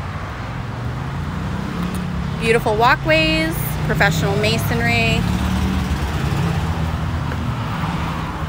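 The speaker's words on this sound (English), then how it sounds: "Look at all this traffic." Steady road traffic with cars passing on a busy street outside a commercial building, a constant low hum of motor vehicles beneath a man's close, clear speech.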